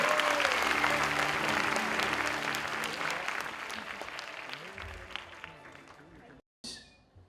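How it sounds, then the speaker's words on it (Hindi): Loud, dense audience applause for actor Anupam Kher at an evening event with over 700 specially gifted children, sustained for several seconds and tapering before a brief break and a short final burst. "अनुपम खेर जी के लिए जोरदार तालियां होनी चाहिए।"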